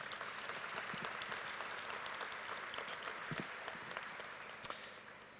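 Distant, faint applause from an outdoor audience at the 2019 Colorado Air and Space Port Summer Showcase, thin scattered clapping with a few sharper nearby knocks, tapering off toward the end.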